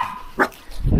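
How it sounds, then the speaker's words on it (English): A big dog at a campsite gives a single short bark, followed by a low muffled huff, close by in a brief outdoor moment. "it's a vicious big dog"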